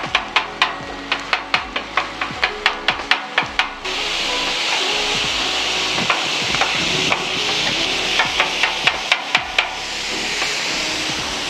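Cajun turkey is chopped on an oiled griddle for a grilled sandwich: a quick run of crisp, close scraping chops, then a loud steady sizzle with a few more chops mixed in.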